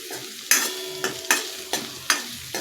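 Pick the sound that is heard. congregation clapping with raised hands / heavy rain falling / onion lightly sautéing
onion lightly sautéing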